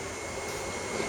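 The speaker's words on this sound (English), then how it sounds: "hopefully you can hear my radiator fans running in the background" A steady, broad whooshing drone of car radiator cooling fans runs without pause, even and moderately loud, with no speech over it, as the carbureted engine sits at operating temperature.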